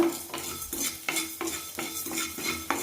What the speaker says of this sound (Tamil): உப்பை நல்லா வறுத்துட்டு பயன்படுத்திங்கன்னா நீண்ட நாட்கள் கெடாமல் இருக்குங்க